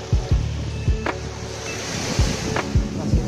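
Surf washing up on Pantai Hanie, a white-sand beach with blue water, heard as a continuous wash with repeated low thumping pulses and a hint of wind, no talking.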